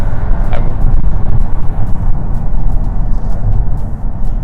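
Remapped VW Golf R Mk8 with RaceLine ECU and TCU software pulling hard from first gear, a loud sustained engine rumble with steady low drone and rising intake roar throughout, no talking.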